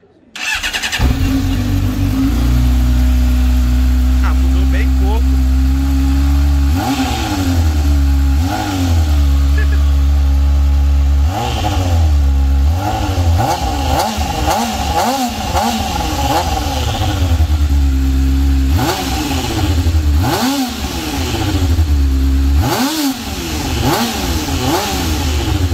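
A Honda Hornet motorcycle with a homemade Coca-Cola can exhaust starts and idles loudly, then gets blipped through a string of sharp revs that rise and fall, close up with no talk.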